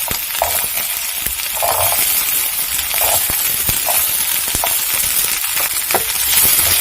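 Chopped onions frying in garlic-infused oil in a pan, a steady close sizzle and hiss with occasional soft stirring scrapes and clinks throughout.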